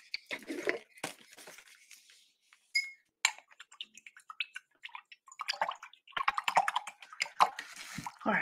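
A paintbrush rinsed in a water container, giving close, intermittent sloshing, tapping and dripping in short, uneven bursts separated by near-silent gaps.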